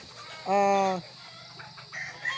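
A gamefowl broodcock on a game farm lets out one loud, close crow lasting about half a second, followed by a few softer clucks and low farmyard noise.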